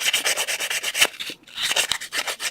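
Rapid, rhythmic rasping strokes of a file and sandpaper working a wire-woven jewelry channel setting for small stones, close and fairly loud, with one short pause midway and no talking.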